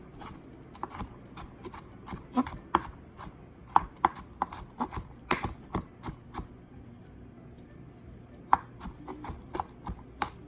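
A knife mincing a garlic clove on a cutting board, a close series of crisp, irregular chops with brief pauses and no talking.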